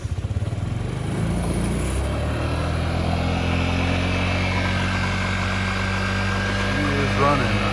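A 2002 Honda Metropolitan scooter with fuel issues starts and settles into a steady idle, its small engine putting out an even, close putter with a slight vibrating hum, and a voice speaks briefly over it.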